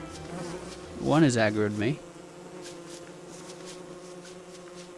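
Faint insect-like buzzing of bees lured away from their hive in the video game Don't Starve hums under a short spoken remark.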